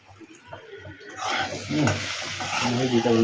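Potatoes fry in a hot pan, starting with soft stirring scrapes and then swelling into a loud, continuous sizzle that grows stronger toward the end.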